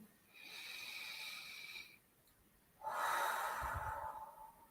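Slow guided-meditation breathing: a soft, steady inhale for about a second and a half, a short pause, then a fuller, louder exhale close to the mic, with no talking.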